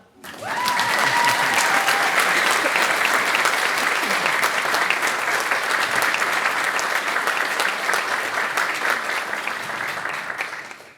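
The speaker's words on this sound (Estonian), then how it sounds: "Spontaanne aplaus!" Sustained, loud applause from the audience at Elva Gymnasium's 78th graduating class ceremony, a dense wash of clapping that holds steady for about ten seconds before easing slightly at the end.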